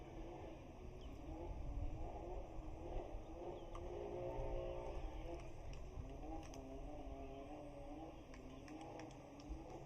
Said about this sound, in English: Sounds like a giant weed eater or something in the background, or a car.